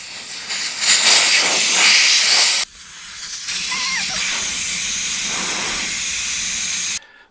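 Air rushing out of a 4x4 tyre with the valve core removed, a loud continuous hiss that dips briefly midway, resumes steady and strong, then cuts off abruptly.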